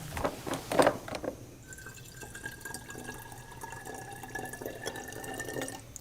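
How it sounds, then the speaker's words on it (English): PSS buffer is filled into a P1 lab bottle, with a brief, splashy pour at the start, then a faint room hum and soft drips. "we will first fill the P1 bottle with our PSS buffer."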